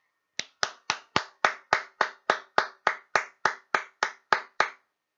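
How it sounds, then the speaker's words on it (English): Fourteen sharp, evenly spaced claps ring out alone at a softball club awards night, honouring a new life member, a single steady rhythm of close hand claps with no voices. "can everybody please join me in giving Ange a big round of applause"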